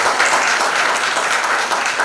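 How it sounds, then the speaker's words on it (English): Dense audience applause at a trailer launch event, many hands clapping steadily and loudly for a couple of seconds, with no voices standing out. "To the woman power, let's have a huge round of applause."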